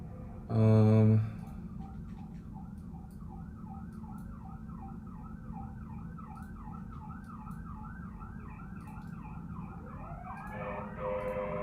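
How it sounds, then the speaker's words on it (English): A distant downtown siren wails in a steady rising and falling cycle, preceded by a brief loud tone, over low background hum. "there's some sirens. I live downtown, so there's always sirens."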